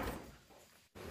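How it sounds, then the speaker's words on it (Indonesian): The back door of a triangular teak wood villa in a durian orchard opens with a soft, brief wooden scrape and shuffle. It is quiet and close, with a short pause before the room sound returns. "Kita buka pintu belakangnya tuh."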